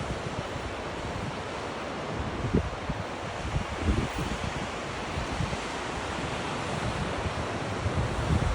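Pacific Ocean surf on a windy, foggy Oregon dunes beach: a loud, continuous wash of breaking waves mixed with heavy wind buffeting the microphone, no voices.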